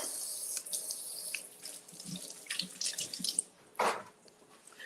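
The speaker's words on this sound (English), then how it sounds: "Let me rinse this off." Tap water running over an apple being rinsed at a sink, quiet uneven splashing and trickling with a few brief louder gushes.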